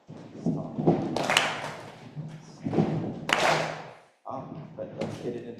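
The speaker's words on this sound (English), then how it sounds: "It'll be 1, 2, stomp, clap. 1, 2, stomp, clap." Rhythmic thumps of feet stomping on a floor mixed with hand claps at a church water communion gathering, loud hits falling in a repeating pattern while people talk throughout.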